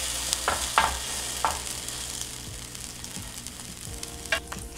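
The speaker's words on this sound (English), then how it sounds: "Toast in the pan. Give it a little flip." French toast fries in a pan for a breakfast sandwich, giving a soft steady sizzle close by, broken by a few clinks and scrapes as it is flipped.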